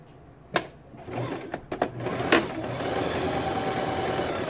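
A sewing machine stitches fabric for a mola heart, starting with a few sharp clicks and knocks, then settling into a steady close mechanical whir with a faint tone.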